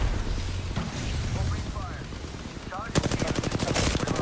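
Rapid gunfire bursts from a battle-royale video game shooter erupt loudly in the second half, dense repeated shots over game sounds, with a player's voice talking earlier.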